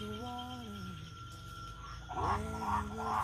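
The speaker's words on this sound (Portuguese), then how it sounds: "Agora já é noite. Tá escutando as pererecas?" Tree frogs call at night in the countryside, close and fairly loud, with a series of harmonic croaking calls that rise and fall, layered over a steady insect-like drone.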